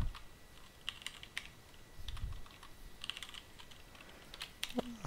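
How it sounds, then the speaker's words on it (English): Quick, uneven keystrokes tap on a computer keyboard while Node.js code is entered, light clicks coming in scattered bursts with small pauses between them. "I can't type today."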